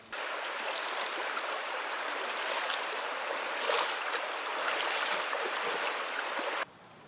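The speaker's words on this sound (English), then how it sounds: "wade in the water" Continuous rushing and splashing of creek water as someone wades across on a hiking trail at Harper Creek, close by, with a brief stronger surge midway before it drops off at the end.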